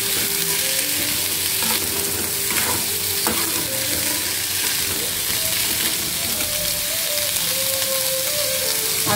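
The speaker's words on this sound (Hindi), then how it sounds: "और जो चने हमने उबाल के रखे हैं वो भी इसी में डाल लेते हैं" Boiled chickpeas frying with spices in a pan for a festive prasad dish, with a steady sizzle throughout and occasional scrapes of a spoon stirring them.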